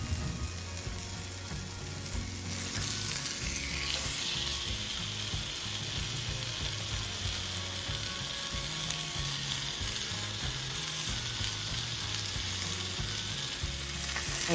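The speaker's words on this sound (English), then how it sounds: "I am going to add about 2 tablespoons of oil to a cast iron skillet on medium high, and I'm gonna sear my filet flesh side down" A salmon fillet sears flesh side down in about two tablespoons of oil in a cast iron skillet over medium-high heat, giving a steady, dense sizzle and crackle that runs unbroken throughout.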